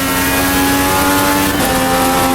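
An IndyCar race car in a racing video game holds its engine at the top of the rev range while slipstreaming, a loud, steady, high-pitched whine with a brief dip before it resumes.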